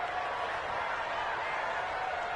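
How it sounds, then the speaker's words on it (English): Stadium crowd noise in a football video game during a tense final-minute 2-point conversion, a steady broad roar holding at an even level throughout, with no distinct claps or voices standing out. "Listen to this crowd now."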